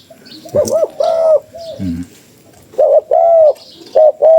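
Pigeons or doves coo loudly and close by in a handful of distinct bursts separated by short pauses, with a few faint chirps around them and no talking.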